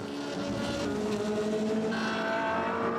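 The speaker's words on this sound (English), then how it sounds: "Bada slides in the rain and is overtaken by Michiels and drops back into 3rd place" Racing cars drive through the rain on a wet track, giving a steady, moderately distant engine whine with rising pitch and a hiss of spray, with no talking.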